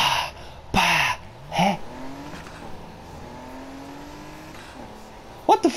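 Engine of a car in the Need for Speed Heat racing game revving and climbing in pitch as it accelerates, with a few louder bursts and one gear change midway, heard close over faint background.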